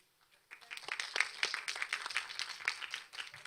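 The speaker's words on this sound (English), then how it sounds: "you were drowned by applause then" Applause from an audience at a panel event, a quiet spread of many hands clapping for a few seconds that starts abruptly and holds steady, heard from some distance with faint murmuring underneath.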